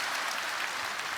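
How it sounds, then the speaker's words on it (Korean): A church congregation at a Korean service claps together in a brief burst of dense, even applause that fills the room, with no voices over it. "큰 박수로 격려해 주시기 바랍니다"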